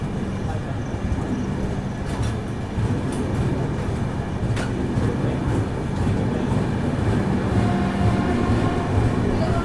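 A passenger train rushes past at speed, producing a steady, fairly loud roar of wheels and rushing air with faint rail clatter that builds slightly over several seconds.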